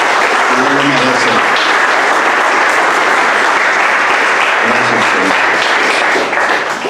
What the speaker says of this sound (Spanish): ¿Puede darle un aplauso de alabanza al Señor?